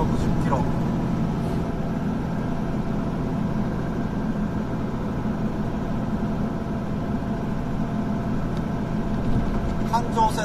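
A car driving eastbound on the Hanshin Expressway Route 13 Higashi-Osaka Line, with a steady, continuous hum of engine and road noise from inside the cabin throughout.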